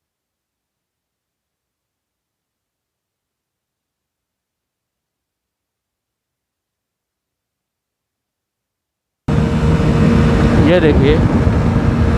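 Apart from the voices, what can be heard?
Hero HF Deluxe and Honda CD110 motorcycles drag racing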